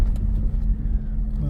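A 1982 Datsun 280ZX cruising along residential streets produces a close, low engine rumble that stays continuous through the brief moment.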